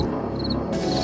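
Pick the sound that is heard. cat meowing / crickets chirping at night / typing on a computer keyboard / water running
crickets chirping at night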